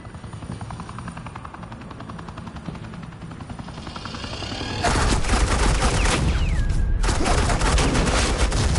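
Suppressing gunfire in the Batman Telltale video game, a sudden loud, continuous rattle of automatic fire breaking in after a steady helicopter drone, dense and close, with no talking over it.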